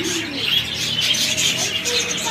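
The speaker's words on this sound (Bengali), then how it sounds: "এই যে কবুতর," Pigeons coo and chirp inside a busy bird shop, soft repeated calls rising over a steady background of other caged birds, fairly close and continuous without speech.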